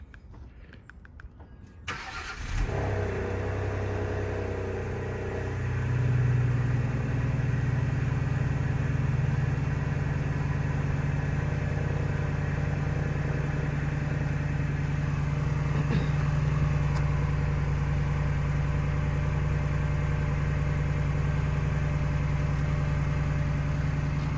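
A 2020 Ford Explorer ST with its stock exhaust cranks and starts after a quiet moment, then settles into a steady, low idle that continues evenly and fairly close.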